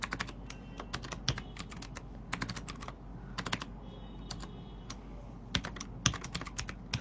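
Rapid, uneven keystrokes on a computer keyboard, coming in clusters of clicks with short pauses between bursts. The typing is close and clear, and no one speaks.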